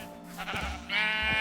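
Sheep in Minecraft bleat twice, a short call followed by a louder, longer quavering one near the end, close by with no talk.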